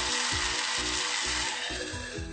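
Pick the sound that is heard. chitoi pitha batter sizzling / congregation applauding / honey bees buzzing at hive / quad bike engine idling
chitoi pitha batter sizzling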